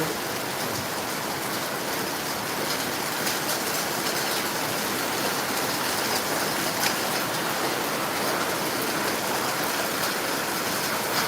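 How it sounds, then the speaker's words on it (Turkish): Hail pelts down steadily in the Mersin Fındık Pınarı highlands village, a dense, even hiss of impacts with occasional sharper hits, constant and close throughout. "Haline göre dolu yağmaya başladı."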